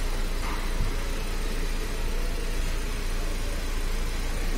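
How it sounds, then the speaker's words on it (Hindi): Hyundai Elite i20 car engine idling with the dashboard removed for heater and AC work, a steady, even, close hum with broadband noise and no speech over it. "गाड़ी अभी चालू रखा हूँ"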